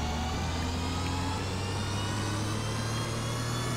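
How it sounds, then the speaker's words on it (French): Tractor engine in Farming Simulator 15 drones loudly and steadily, a heavy low rumble that holds without a break throughout, with no voices over it. "ce bruit, on dirait que le moteur va exploser"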